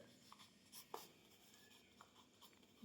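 Faint scratches and taps of handwriting on a surface during a lesson, a few short strokes spaced irregularly, ending with a louder bump.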